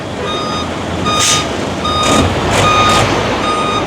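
A tow truck backs up during an MMDA road-clearing operation, sounding four loud, evenly spaced reversing beeps over a low engine rumble and street noise.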